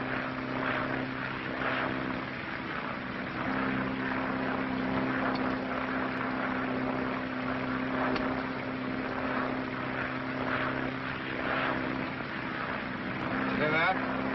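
A propeller airplane engine drones steadily in flight in an old radio drama, a constant, even, low-fidelity hum that runs unchanged throughout.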